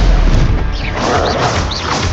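A Stupefy spell cast in Hogwarts Legacy during a fight with a troll: dense, crashing magical bursts with whooshing sweeps, loud and continuous through the moment.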